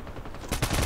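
A short burst of rapid gunfire in Call of Duty Mobile that erupts suddenly and loudly after a brief moment of background noise.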